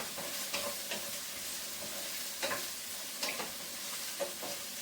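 Cut okra fries in hot oil in a pan, a constant close sizzle broken by several sharp scraping stirs at irregular intervals, with no one speaking.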